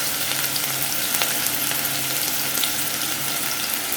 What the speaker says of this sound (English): To that I'm going to add the onion, let that brown a bit.